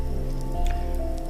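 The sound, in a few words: rain sound effect, night highway scene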